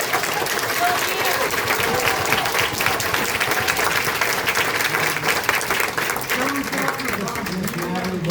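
Sustained audience applause fills a county commission meeting room in Wilson County, Tennessee, a steady dense clapping that holds at even loudness for several seconds, with voices murmuring faintly underneath.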